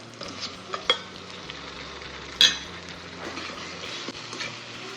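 Tomatoes and onions sautéing in a pan for a capsicum masala, giving a moderate steady sizzle with a few sharp spoon clinks and stirring scrapes over a low background rumble.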